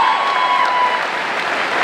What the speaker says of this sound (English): let's give a round of applause for our new superintendent, another Brockton High alumni